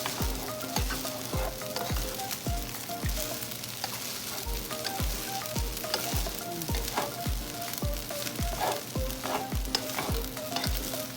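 Shrimp fried rice sizzles in a hot pan as a metal spatula scrapes and tosses it in a steady, regular rhythm of sharp strokes over continuous frying hiss.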